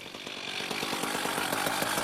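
Chainsaws felling a tree in a forest patch, a buzzing engine whine with rapid rhythmic chatter as the chain bites into the wood, fairly close and steady throughout.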